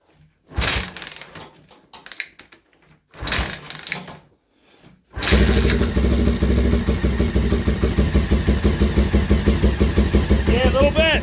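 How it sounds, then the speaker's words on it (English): A cold Honda XL600R RFVC motorcycle is kicked over twice with rough, sputtering bursts, then fires up and settles into a loud, close, steady thumping idle that carries on, with the kickstarter gear rattling. "Let's see if this Kickstarter gear still makes any noise at all."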